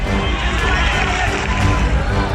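Dense murmur of a large crowd of thousands of young people filling the streets, sidewalks and intersections, a steady wash of many voices with no single speaker standing out.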